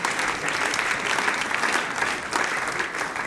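Loud, sustained applause from a church congregation fills the space, a dense continuous wash of clapping that swells slightly near the end, with no talking over it.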